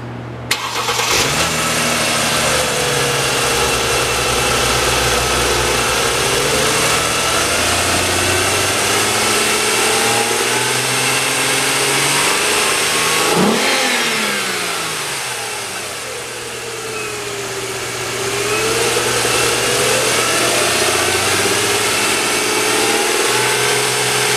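2008 car engine, stock number 170477, cranking and catching, then settling into a steady idle with several rising and falling revs, loud and close throughout with no talking.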